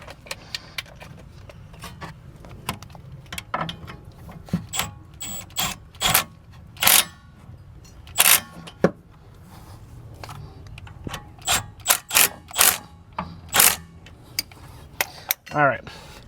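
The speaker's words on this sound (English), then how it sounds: "So I'll go ahead and use my wrench here." Ratchet wrench tightening rear brake parts on a Hyundai Palisade, a series of sharp metallic clicks and clinks in irregular bursts, close and fairly loud against a quiet background.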